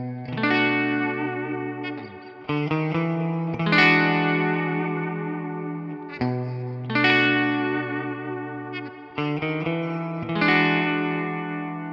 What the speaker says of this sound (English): let's hear the humbucker in parallel. So not a split, but parallel.